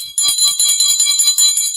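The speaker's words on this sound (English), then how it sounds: "Let me get my bell." A host rings a hand bell several times in quick succession, its bright metallic peals sounding close and loud, each strike ringing on with sustained overtones and no talk over it.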